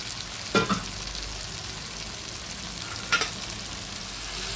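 Peas and potatoes fry in spiced masala in a kadai with a soft, continuous sizzle, broken by two brief scraping clatters of a spoon stirring; no talking.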